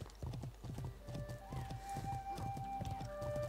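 In the World of Warcraft game, a horse's hooves clip-clop in a steady rhythm close by while a long neigh and whinny rings out over them.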